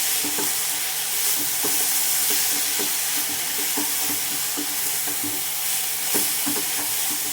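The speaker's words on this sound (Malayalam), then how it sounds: "അപ്പം ഞാൻ ഇനി എല്ലാം ഒരുമിച്ചൊന്ന് മിക്സ് ചെയ്യുവാണേ." Egg thoran with vegetables sizzles and fries in a pan while a spoon stirs and scrapes through it in repeated knocks, a close steady hiss filling the background with no voices.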